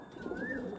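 A Kaldama pigeon gives a single brief, soft coo, faint and close, standing alone without speech.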